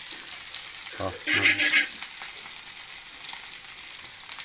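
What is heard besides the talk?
frying vegetables in a pan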